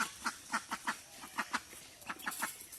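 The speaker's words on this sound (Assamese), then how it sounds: "এয়া হাঁহ" Ducks quack by a village pond, a string of about a dozen clear, close nasal calls in irregular pairs and runs over faint outdoor background, with no talk.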